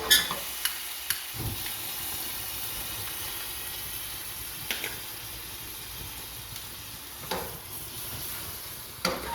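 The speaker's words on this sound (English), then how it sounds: "Add your flambe. It'll start to boil." Flambé liquor boils and sizzles in a Bananas Foster pan with the stove turned off, giving a steady soft hiss broken by a few sharp pops and clinks.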